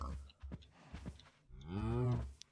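A single cow gives a long, low moo close by after a few soft thumps, heard in a game-like farm setting with pigs around and no talking during the call.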